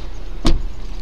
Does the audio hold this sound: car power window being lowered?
yes